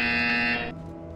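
A buzzer in the VR game Portal Stories: VR sounds as a loud, harsh, steady electronic tone, then cuts off after a little over half a second, leaving a low hum.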